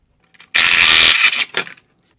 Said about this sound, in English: I will turn this all the way to the left to loosen the projector fully.